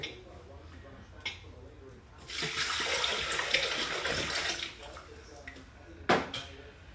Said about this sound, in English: now I'm going to put the water and the vinegar in the bowl and clean that